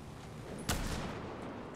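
A single sniper rifle shot in a video game, one sharp crack standing out over a dense, steady wash of game noise.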